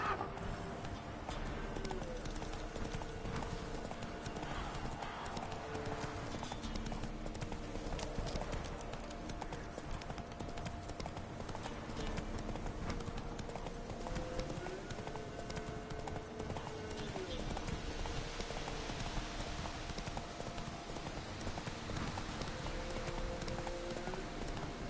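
A horse gallops in The Witcher 3, its hooves drumming in a fast, continuous clip-clop rhythm throughout, with a brief whinny and ambient game sounds mixed beneath.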